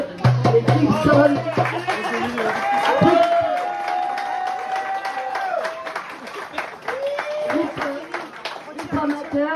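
A festival concert crowd gives a band a burst of applause, the clapping mixed with cheers while a nearby voice speaks over it and a sustained musical tone rings underneath.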